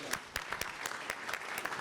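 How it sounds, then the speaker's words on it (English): Conference audience at a business and investment forum applauding a departing panel, steady moderate clapping with distinct individual claps, fairly distant and soft, without voices. "Let's give them another round of applause as they exit the stage for each of their wonderful contributions this afternoon"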